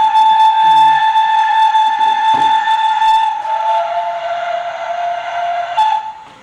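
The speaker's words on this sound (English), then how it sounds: "What a train set." Model train set whistle blows a loud, sustained steady tone that drops slightly in pitch partway through, with faint speech and light rattling underneath.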